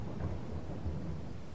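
Rain and rolling thunder from the farming video game Farming Simulator 22, a continuous low rumble under steady rainfall, fairly quiet with no voices.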